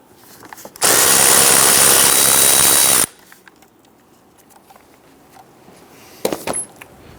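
A power tool whirs loudly and steadily for about two seconds while loosening an 8mm bolt on the lower airbox of a 2011-2019 Ford Explorer, followed by quiet handling and a brief metallic clink of the removed bolt.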